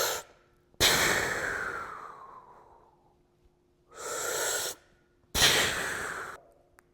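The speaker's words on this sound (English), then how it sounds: "Deep breath." A person breathes deeply during a shoulder stretch: a long, loud exhale that slowly fades, then two shorter, strong breaths after pauses, all close and with no talking.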